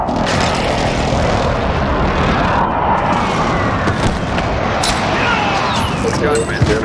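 Airstrike aircraft in Call of Duty Warzone sweeping in with a loud, sustained propeller-engine roar, mixed with game gunfire and other battle noise, while a voice speaks over it.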